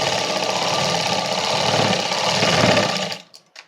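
Close and loud, a sewing machine rattles steadily through a princess-cut blouse seam, its fast needle buzz continuous for about three seconds before it stops abruptly, leaving near-silence.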